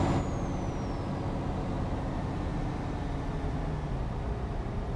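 In Euro Truck Simulator 2, a truck's air brakes let out a sustained hiss over loud engine and road noise, filling the whole stretch with dense, continuous sound.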